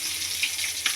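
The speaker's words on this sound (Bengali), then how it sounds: "এখন মাছ ভাজা করবো" Hilsa fish frying in hot oil in a home kitchen, a brief close sizzle with a few sharp crackling pops rising out of the steady hiss.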